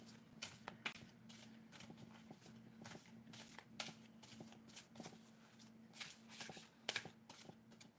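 Oracle cards riffled and shuffled by hand in soft, quick bursts of papery flicks and slaps, faint and close, with brief pauses between passes.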